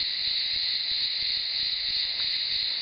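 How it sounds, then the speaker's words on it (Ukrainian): Cicadas sing in a hot, dry Turkish canyon with a continuous, loud, shrill buzzing drone. It holds steady for the whole stretch with nothing else heard over it. "І співають цикади."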